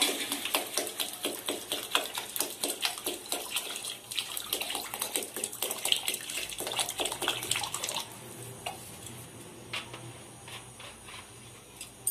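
Measured water poured from a bottle into a pot of khichuri rice coated in spices, a steady close splashing gush that fades into lighter trickling near the end.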